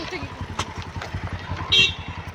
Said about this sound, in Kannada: ಗಾಡಿ ನೋಡ್ರಿ ಗೈಸ್. ಈ ಕಡೆ ಬೈಕ್